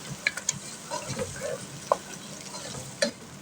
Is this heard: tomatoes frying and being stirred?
yes